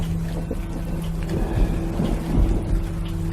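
Heavy rain pours in a steady, dense rush, with low rumbling swells like distant thunder rolling through it, loud and continuous with no voices.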